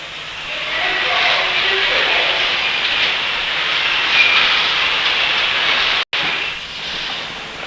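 Factory machines winding copper wire coils in a lighting works give off a loud, continuous whirring hiss that holds steady throughout, broken by one very brief dropout near the end.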